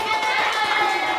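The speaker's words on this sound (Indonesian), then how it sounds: "Kita kasih tepuk tangan dulu buat Ani." Students in a classroom clapping together, a short busy burst of many hands at an even loudness with a faint murmur of voices mixed in.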